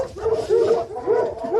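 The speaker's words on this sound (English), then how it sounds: "So the hounds are on the move." Hounds barking and whining during a fox hunt, a pack of repeated yelping cries rising and falling at a moderate distance with no talking over them.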